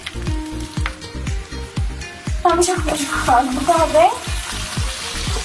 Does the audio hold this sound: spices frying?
yes